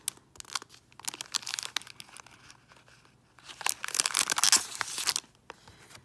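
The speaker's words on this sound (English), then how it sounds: "Sorry for the crinkling. That's probably loud." Plastic packaging from Brutus Monroe shaker pouches crinkles and rustles in close, irregular bursts, growing louder and denser midway before settling into lighter handling sounds, with no speech.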